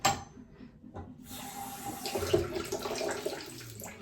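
A bathroom tap runs steadily as water is splashed onto a face before a shave, a close, continuous hiss and splatter with no talking.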